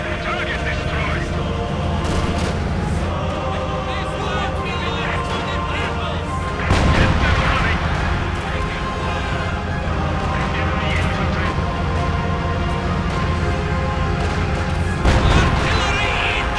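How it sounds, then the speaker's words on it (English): Artillery fire in a Company of Heroes battle at the Poznan Citadel: heavy booms and crashing impacts burst over a dense layer of combat noise, with a big hit about midway and another near the end, while voices shout. "artillery incoming!"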